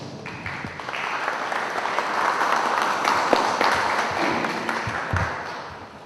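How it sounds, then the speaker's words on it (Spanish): An audience at a Lima bar association law lecture applauds to welcome a speaker: dense, sustained clapping that swells in the middle and holds steady for about six seconds, with no talk over it. "Recibimos con un fuerte aplauso"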